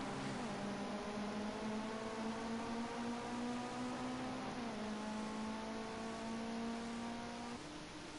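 Ginetta GT5 race cars on track at Zhuhai, a steady droning engine note held at high revs, shifting pitch as the car drives through a corner.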